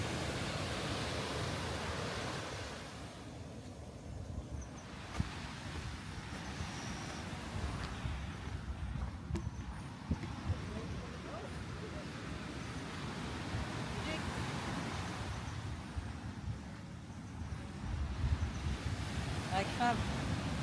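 Ocean waves break steadily on a beach in Zanzibar, a broad continuous wash of surf with slow swells rising and falling, heard from nearby with some wind noise.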